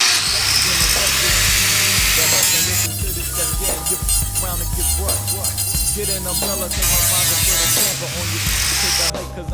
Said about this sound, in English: that's about all that we can do with the big grinder